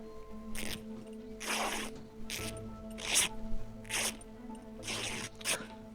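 Cloth being cut into rags in the survival game SCUM: about six short, ripping tear bursts in an uneven rhythm, close and moderately loud over a low steady hum.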